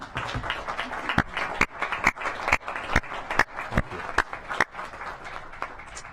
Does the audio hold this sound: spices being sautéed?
no